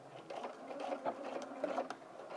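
A sewing machine back stitches along a vent lining, its needle running in a fast, close, steady whir with a few short pauses and bursts, quiet and alone without talk.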